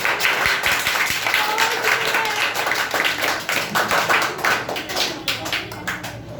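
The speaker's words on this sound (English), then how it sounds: "Well done, clap for Ritik." An audience at a public speaking competition claps for a student speaker, a steady crowd of hand claps sustained for several seconds with a few voices mixed underneath.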